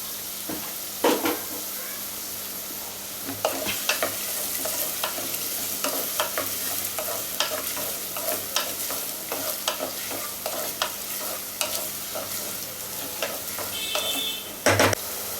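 Onions seasoning in a pan for a quail pepper fry, sizzling steadily throughout while a spoon scrapes and clicks against the metal at irregular intervals, close and fairly quiet.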